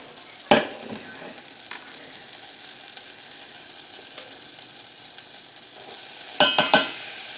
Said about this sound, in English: And what we're making is a roux. And I'm just going to stir this around for a little bit.